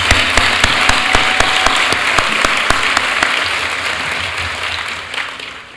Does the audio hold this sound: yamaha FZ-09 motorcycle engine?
no